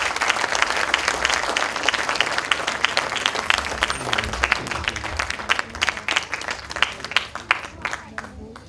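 Enthusiastic audience applause fills a hall at a ghazal evening as a singer is welcomed, dense sustained clapping close and loud, tapering slightly toward the end.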